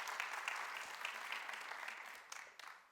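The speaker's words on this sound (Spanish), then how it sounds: "Era un aplauso a ellos," A church congregation claps for conference directors, a fairly faint but steady round of applause that gradually tapers off toward the end.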